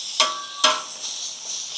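Peppers and onions stir-fry on a flat griddle, with two sharp spatula scrapes against the metal over a steady sizzle, close and clear.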